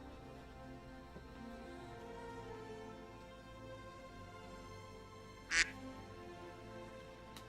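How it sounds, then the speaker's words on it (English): A short, bright duck quack sound effect plays once as someone joins a Discord hangout voice channel, standing out sharply over a low steady background hum. "I know that's you because of the incessant duck sound."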